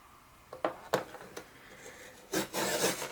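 A trimmer scores sheet material for a vintage mailbox craft, producing short scraping rubs and sharp ticks at intervals, closing with a longer, louder rasping drag near the end.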